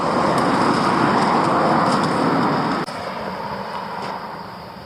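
Car driving along a road, a steady broad rumble of engine and tyre noise with a brief dip and change in tone partway through, heard from inside, no talk.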